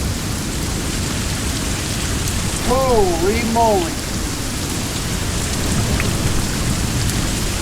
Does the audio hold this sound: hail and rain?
yes